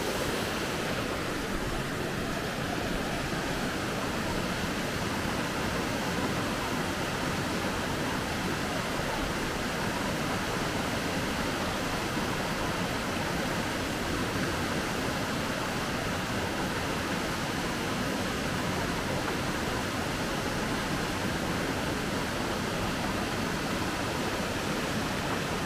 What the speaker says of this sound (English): it's only a little brook, but as you can see, there's a bit of power in it